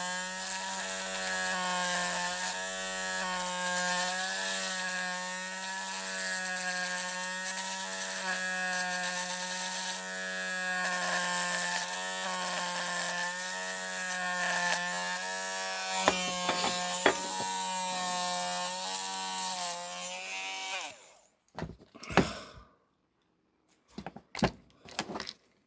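Rotary drill grinding away the plastic flange of a model London bus wheel, a steady high whining buzz held for about twenty seconds, then stopping, followed by a few sparse clicks and handling knocks.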